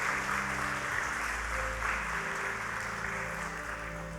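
Church congregation applauding during a sermon, a steady broad clapping wash with a low hum of sustained tones underneath, moderately loud throughout.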